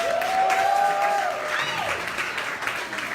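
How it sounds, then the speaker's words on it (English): Applause from an open mic audience at a bar venue rises at once and holds as steady, fairly loud clapping, with a long tonal whistle or squeal over it early on and voices mixed in. "Let's give them a big round of applause."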